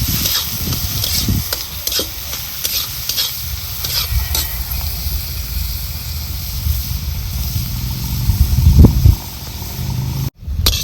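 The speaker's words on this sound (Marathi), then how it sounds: "लालसर असा कांदा भाजून झालेला आहे" Onion frying in a pan until reddish, a steady close sizzle with repeated spatula scrapes and stirs, a louder clatter near the end, then a brief cut before the sizzle resumes.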